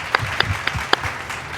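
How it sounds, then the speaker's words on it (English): An audience at an investment-industry event gives a round of applause, a soft, diffuse clapping bed with a few sharper individual claps standing out close by. "Let's give them Nirmal Jain, Venkat, and the team a nice round of applause."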